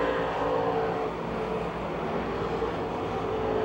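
Race cars lapping the track at Pennsylvania Motor Speedway near Pittsburgh, a steady, dense engine roar that holds loud and even throughout with no voices.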